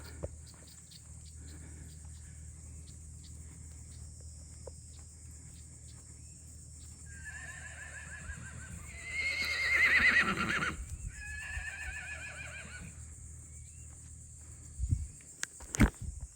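A horse whinnies a few times in the distance, with a steady high insect-like hum and faint background noise throughout.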